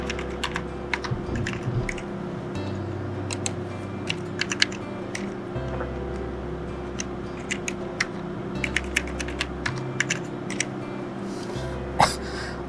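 A computer keyboard clatters steadily as an Aadhaar card number is typed into an online NDA application form, with quick irregular key taps over a low background hum.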